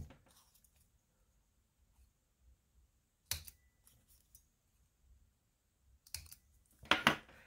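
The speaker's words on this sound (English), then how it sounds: "I'm going to cut the corners off of this one, and I'm just trying to nip the corners." Scissors nip the corners off a paper label in a few short, sharp snips, spaced apart with near silence between them, close and fairly quiet.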